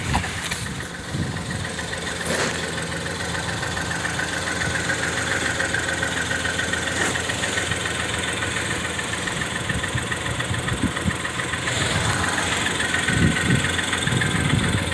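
A 2013 Ford Escape engine idles steadily with a low, rumbling muffler exhaust note free of leaks, close by and continuous, with occasional small clanks.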